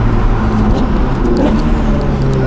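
A Novitec-tuned Ferrari 488 Pista accelerates hard while overtaking on an open road, a loud, close, steady engine roar with road and wind noise.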